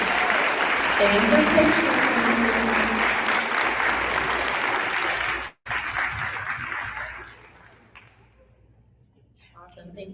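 A school awards assembly audience claps in a full, sustained round of applause that breaks off and fades, after which a voice speaks briefly.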